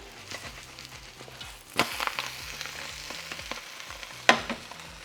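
A Spanish omelette fries in a pan with a continuous crackling sizzle, broken by a couple of sharp clattering knocks and scrapes as it is handled and flipped.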